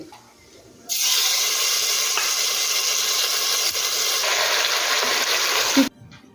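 Marinated chicken drops into a hot pot of oil with whole spices, setting off a sudden loud, steady hiss that holds for about five seconds and then cuts off abruptly.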